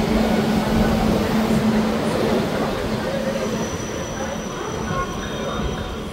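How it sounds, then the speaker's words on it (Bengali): Maa Tara Express pulling out of Bardhaman Junction, a steady loud rumble of rolling carriages with a faint tonal hum, continuous throughout and slightly easing toward the end. "আমাদের ট্রেন ছেড়ে দিল বর্ধমান জংশন থেকে"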